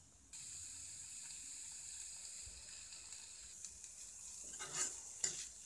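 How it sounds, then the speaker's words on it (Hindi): Onions, green chillies and curry leaves stirred with a spoon in a pan over medium heat, a soft hissing sizzle that builds into a few louder scrapes and clinks near the end. "हरी मिर्च और आनियन भी डालकर अच्छे से चम्मच पर 5 मिनट तक हिलाते रहिए"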